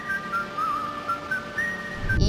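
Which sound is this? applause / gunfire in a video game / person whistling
person whistling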